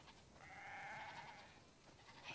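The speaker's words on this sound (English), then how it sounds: "We definitely have way too many sheep." A single sheep in The Last of Us Part 2 lets out one drawn-out bleat, faint and quiet against a soft background.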